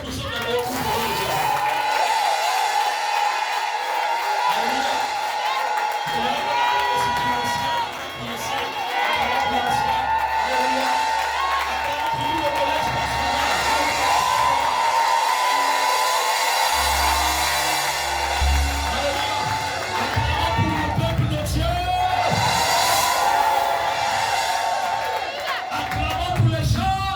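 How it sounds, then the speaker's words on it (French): Church congregation cheering at a service, with sustained crowd shouting and whoops over amplified music, rising in waves with a louder burst near the end, voices talking throughout. "Alors acclame encore pour ceux qui ont compris."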